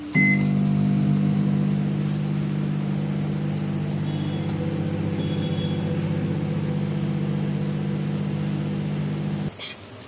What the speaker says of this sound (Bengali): মাইক্রোওভেনে দিয়ে দিয়েছি, মাইক্রোওভেনে কিন্তু তোমার 3 মিনিট আমি রাখবো